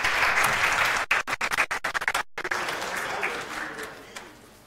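People at a regional speech therapy conference applaud, a full burst of clapping with brief dropouts partway through, then tapering off under faint voices.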